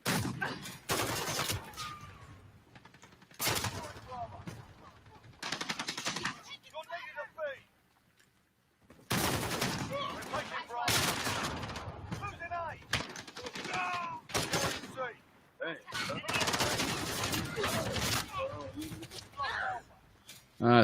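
Dense bursts of video-game gunfire on the Call of Duty map Shipment, loud and rapid, arriving in clusters with brief gaps between them and a voice talking over parts of the action.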